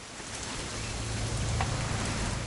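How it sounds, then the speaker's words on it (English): Constant rain falls in the video game What Remains of Edith Finch, a soft, even wash of drops with a low rumbling undertone and no voices. "It's gonna rain the whole weekend,"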